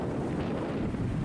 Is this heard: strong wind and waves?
yes